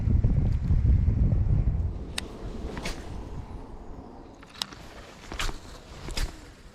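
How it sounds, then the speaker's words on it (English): Steady outdoor wind buffets the microphone beside a lake during a bass fishing outing in Fresno, with a broad rumble that eases after a couple of seconds and a few brief knocks and splashes near the end. "A little windy out here."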